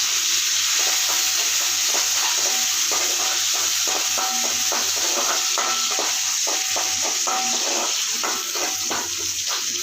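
Onion and dried red chilli fry in hot oil with curry leaves added. There is a steady bright sizzle throughout and a rhythmic scrape of stirring in the pan, close and continuous.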